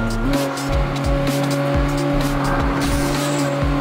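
Video game highway race at night with a red rival car: a steady, loud engine drone carries through, while repeated tire squeals and skids come in short regular bursts.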